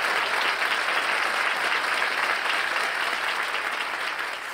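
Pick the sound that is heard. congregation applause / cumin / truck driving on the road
congregation applause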